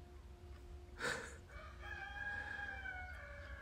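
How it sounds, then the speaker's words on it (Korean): A rooster crows once in the early afternoon, a loud, brief burst through an open window, followed by fainter drawn-out calls from farther off over a steady low background hum. "왜 오후 1시에 수탉이 저렇게 우는겨"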